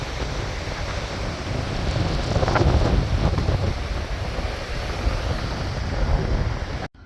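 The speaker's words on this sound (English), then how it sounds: "as violent as the ocean can be after a hurricane" Violent ocean surf churning after a hurricane, a continuous loud roar of breaking waves mixed with heavy wind buffeting the microphone, steady throughout with no voices.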